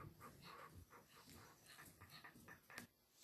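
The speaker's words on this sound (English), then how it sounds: "There's always got to be the dog barking in the background." A dog whimpers and gives soft, faint barks in the background, quiet and intermittent throughout, with a sharper sound near the end.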